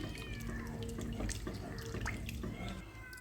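Coconut milk poured into a Kerala-style vegetable stew, a steady close liquid trickle and splash with small drips, continuous and moderate in level.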